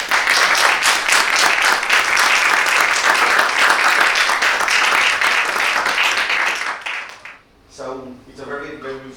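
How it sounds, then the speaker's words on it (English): Loud, close audience applause in a music school concert hall, steady dense clapping for several seconds that cuts off abruptly, followed by a voice speaking. "you can come up and give a round of applause"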